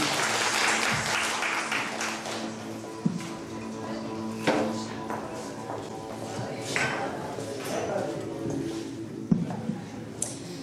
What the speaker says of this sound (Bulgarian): Дай най-хубавата усмивка към камерата и моля аплодисменти за Дженгис.